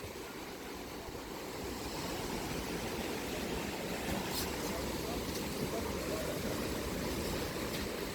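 Jeongbang Waterfall on Jeju rushes out of sight nearby, a steady broadband roar of falling water that holds even and unbroken throughout.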